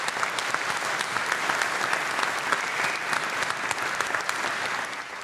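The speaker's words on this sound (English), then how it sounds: "I want to give you a round of applause." Sustained applause from a live show audience in Australia, dense steady clapping that stays loud and even throughout before easing slightly at the very end.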